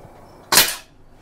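A single sharp shot from an SMK PR900W air rifle loaded by single-shot tray, one loud crisp crack with a short decaying tail, close up and followed by quiet.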